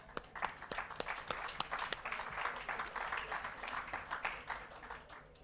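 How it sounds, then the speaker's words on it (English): Faint, scattered clapping from an audience at a civil society awards ceremony, saluting the musicians. Sharp individual claps rise and fall irregularly, sounding distant and thin. "I think we should give the musicians a huge applause."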